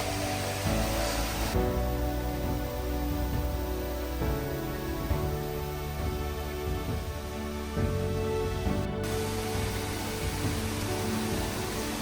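Rushing water at the fourth cascade of Eli Hatha Falls in Maliboda, a steady broadband roar like heavy rain or surf that holds constant throughout, with no voices.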